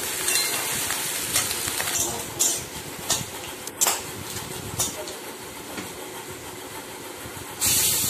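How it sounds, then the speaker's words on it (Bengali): Steady hissing sizzle of onions frying in a pan, with a few sharp clinks and a louder burst near the end. "দিয়ে পেঁয়াজটাকে একটু ভালো করে ভাজা ভাজা করে নিচ্ছি"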